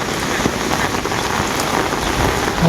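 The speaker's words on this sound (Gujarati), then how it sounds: "છતાં વરસાદ હજી બંધ નથી, હજી ચાલુ જ છે" Steady rain pours down, a dense hiss of drops spattering on hard surfaces throughout, close and continuous with no voices.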